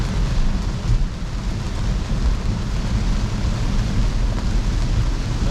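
Very heavy rain drums on a Tesla driving on the road, a steady, loud, broadband roar with low rumble that holds unchanged throughout.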